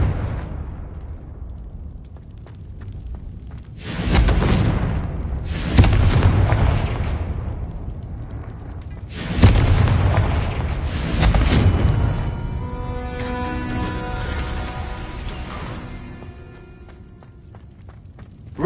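Confringo spell blasts in the Hogwarts Legacy video game on PS5: several loud, booming explosions at intervals, each with a rumbling tail, followed by crackling debris and ringing magical effects.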